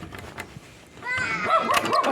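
A dog barks and yips a few times outdoors in a snowy, windy village, the calls fairly close and loud over wind noise, with people's voices faintly nearby.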